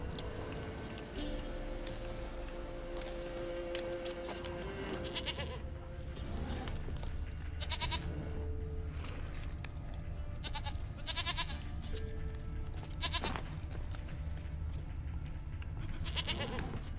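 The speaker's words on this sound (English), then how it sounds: "Here, goat." A goat bleats repeatedly in The Witcher 3, several short wavering cries spread over a steady game background with ambient music, no talk.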